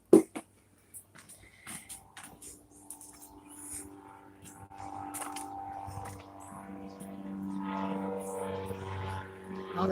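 A noisy propeller airplane passing overhead near a homestead shed, starting faint and growing into a loud, steady drone, with scattered handling knocks and thuds in the foreground.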